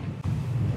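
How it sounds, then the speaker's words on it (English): Strong wind roars at sea aboard a boat as a steady low buffeting rumble, with a brief dip partway through and no voices. "Very windy"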